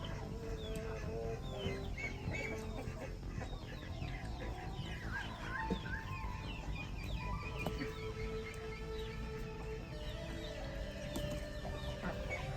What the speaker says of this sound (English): And the chickens went in the duck hut.